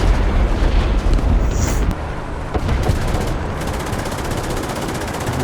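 Heavy, rumbling tank gunfire and booming blasts in War Thunder with an M4A3 (105), a dense, loud, continuous barrage of low-heavy shots and explosions.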